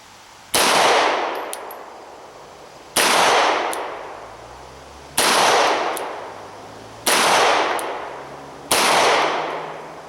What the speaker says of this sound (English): Again, 10 yards away, shooting the Winchester ball ammo, the 124 NATO.